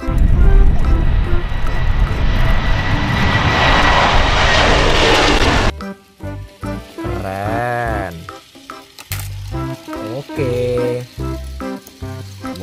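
A loud, yellow airplane engine roars steadily for several seconds, then cuts off abruptly, giving way to other choppy sounds.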